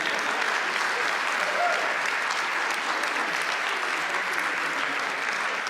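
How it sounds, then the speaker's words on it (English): A spiritual-service audience gives steady, dense applause that holds at an even level throughout, with no break and no voices standing out. "Now you can applaud."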